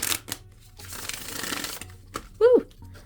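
Tarot cards are shuffled by hand in a burst of rapid riffling and papery flicking close to the mic, with a person speaking briefly around it.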